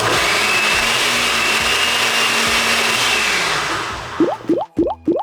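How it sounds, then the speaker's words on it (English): A blender whirs at full speed as it mixes rice cream with vitamin E into a face mask, a loud steady motor drone that winds down near the end, followed by a few short knocks and plops. "Now we just gotta blend it and mix it really well."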